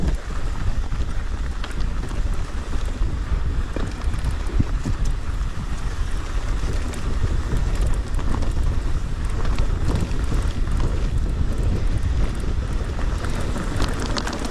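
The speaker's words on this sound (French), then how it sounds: "Pas mal de vent comme d'hab ici." Strong wind buffets the microphone on an exposed mountain ridge, a steady loud roar with low rumbling gusts throughout and no other sounds standing out.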